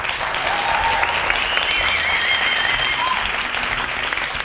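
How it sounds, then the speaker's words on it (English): A studio audience applauds the judges on a leadership competition show, sustained close clapping filling the whole moment with no speech over it. "A round of applause for our judges."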